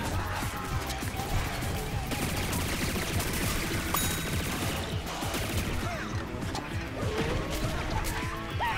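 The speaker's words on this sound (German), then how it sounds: "Da sind gerade zweimal Sachen explodiert." Explosions and heavy gunfire from the shooter game Plants vs Zombies Garden Warfare 2, a continuous barrage of crashes and bursts with a couple of louder blasts, players' voices faint underneath.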